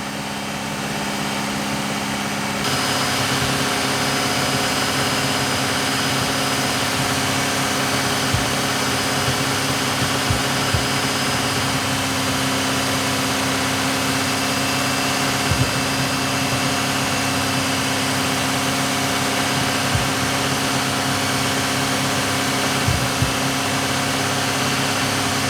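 Ford FG-X Barra turbo engine running steadily at raised revs, a continuous loud mechanical drone close by with occasional low thumps, no talking.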